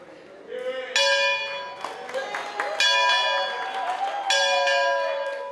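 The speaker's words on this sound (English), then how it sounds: "following tradition and ringing the school's victory bell" A school victory bell rings out in several strong clangs with long ringing tones at a high school graduation, voices and crowd murmur underneath.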